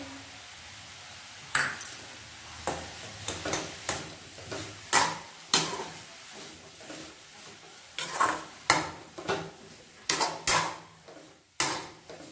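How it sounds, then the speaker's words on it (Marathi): Harbhara bhaji greens being sautéed in oil and stirred in a pan, with repeated sharp scrapes and clinks of a spatula against metal over a faint background sizzle, irregular strokes coming close and clear. "ही छान भाजी तेलावरती छान परतून घ्यायची आपल्याला"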